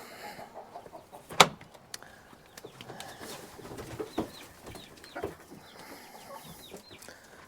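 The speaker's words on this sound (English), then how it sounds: "let's take a look at the chickens" Chickens cluck and chirp softly nearby, with a sharp clang and scattered scratching noises in a quiet outdoor setting.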